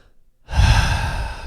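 After a brief silence, a single deep, close breath is drawn in loudly and held for about a second, breathy and airy, as part of a relaxation exercise.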